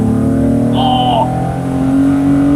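A tuned car engine pulls hard under acceleration, heard from inside the cabin as a loud, steady droning roar with a faint whistle over it and an excited voice exclaiming briefly.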